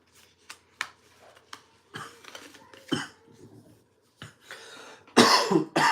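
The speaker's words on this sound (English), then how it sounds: "Every time I cough," Several harsh coughs close by, spaced irregularly and then a louder, rougher fit at the end, with light clicks in between.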